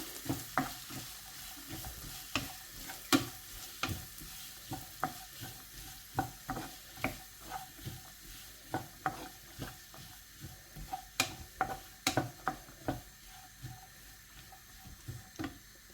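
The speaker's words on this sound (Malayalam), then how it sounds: "ഇനി നന്നായിട്ടൊന്ന് ഇളക്കി കൊടുക്കുക." Paneer butter masala is stirred in a hot pan, a spatula scraping the bottom in regular strokes over a low, continuous sizzle, close and fairly quiet.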